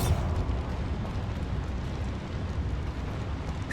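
A Bombarda spell goes off in Hogwarts Legacy with a deep, rumbling blast that hits loud at the start, then rolls on as a low, noisy roar for a few seconds.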